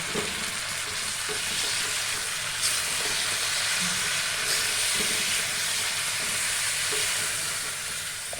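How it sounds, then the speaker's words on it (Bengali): Spiced potatoes for a yogurt-based aloo dum fry steadily in a wok, a continuous loud sizzle with occasional stirring clinks. "আলুর দমটা আমি ভালো করে মশলা দিয়ে কষিয়ে নিলাম কড়াইয়ে"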